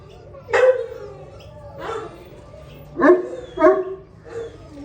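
A bully-breed dog barks five times close by, in uneven bursts: two spaced barks, then three quicker ones, over a quiet background.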